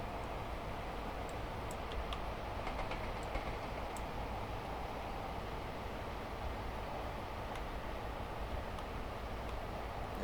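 Class 43 HST train in Train Simulator on the Midland Mainline, running as a steady, continuous rumble of engine and wheels with faint ticking and clicking on top, no talk.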